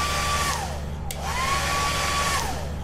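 A faulty hair dryer whirs steadily with a low motor hum and airy hiss; its pitch dips and rises as it cuts out briefly near the middle.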